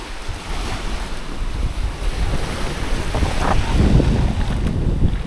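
Steady surf wash on a rocky beach in General Nakar, Quezon, with gusty wind rumbling across the microphone, waves surging a little louder midway before easing back.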